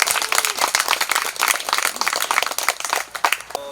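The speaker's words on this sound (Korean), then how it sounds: "참가해주신 여러분들의 큰 박수로 시작하도록 하겠습니다" An audience at an outdoor peace declaration event in Gyeongju, South Korea, claps energetically, with many sharp individual claps blending into sustained applause for several seconds.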